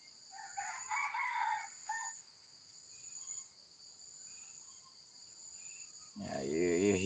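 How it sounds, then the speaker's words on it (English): Chickens on a farm at dawn, with a steady high chorus of crickets behind them. Faint clucking is followed by a rooster crowing loudly near the end. "you hear the sound of the chickens."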